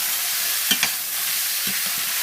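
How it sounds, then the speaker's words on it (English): Chuck roast beef tips sizzle and fry in a pan while being stirred, a constant bright hiss broken by a few scraping stirs of the spoon, close and with no voices. "Stir it around."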